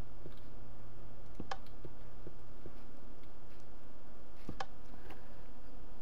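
Button presses on a redstone combination lock in the Minecraft video game, a string of sharp clicks and ticks spaced about half a second to a second apart over a faint steady hum.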